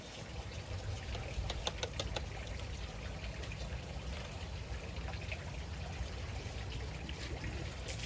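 Pool acid pours into swimming pool water in a steady stream, a continuous soft trickle and splash that stays moderately quiet throughout with no talk.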